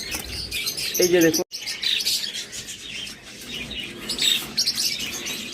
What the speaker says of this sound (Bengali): এগুলো হলো পোরপাস পাখি।